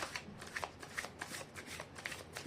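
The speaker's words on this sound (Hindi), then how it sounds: "कर लेती हूँ कार्ड की शफलिंग" Tarot cards being shuffled for a reading, a series of crisp riffling bursts and soft slaps repeating close up, fairly quiet with no talk.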